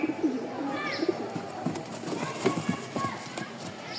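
Pigeons being shown at a pigeon seller's, with soft coos and bird calls scattered through the clip beneath steady talking and background bustle.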